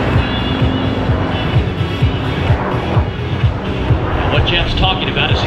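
A Yak-110 aircraft performing at the Pacific Airshow Gold Coast gives off a steady, loud engine roar that stays constant throughout, with some voices audible over it.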